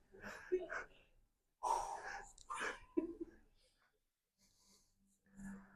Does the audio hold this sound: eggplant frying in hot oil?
no